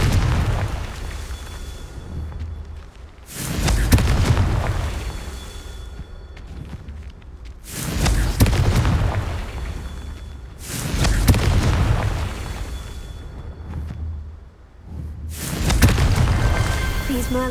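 Confringo fire-spell explosions from the video game Hogwarts Legacy: four or five loud, booming blasts arrive at fairly regular intervals, each swelling into a deep rumble before fading.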